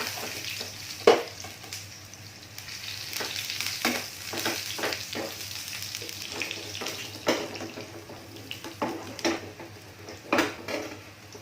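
Pieces of tempeh sizzle and crackle steadily in hot oil, with occasional clinks and scrapes of a utensil stirring the pan.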